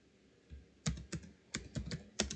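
Fingers type on a computer keyboard in a short, uneven burst of close key taps, roughly eight strokes in two seconds with no talking.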